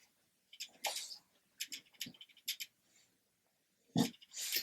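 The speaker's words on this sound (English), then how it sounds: "Can you hear my dog outside licking his paws?" A dog named Rudy licks his paws just outside a closed door, giving faint, wet, slurping bursts in short irregular clusters separated by quiet pauses.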